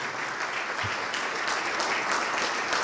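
Congregation in a church ministry service clapping in praise, a loud, continuous roar of many hands with slight surges, close and unbroken for the whole stretch.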